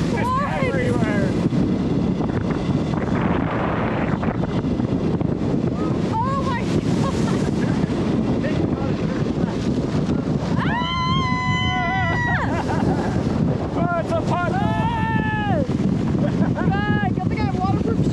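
Intense ocean waves at a Thai beach town, a constant heavy roar of surf buffeted by strong wind on the microphone, with excited voices cutting in and out over the rumble.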